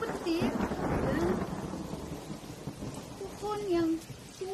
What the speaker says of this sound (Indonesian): pada suatu hari turun hujan yang sangat deras serta dengan petir